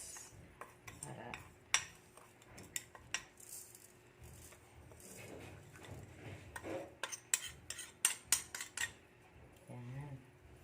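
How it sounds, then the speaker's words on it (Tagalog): A metal spoon clinks and scrapes in a pot while pepper, rock salt and seasoning are stirred into tomato paksiw, with irregular close taps and rattles and a brief murmur of talk near the end. "I-halo-halo na natin guys."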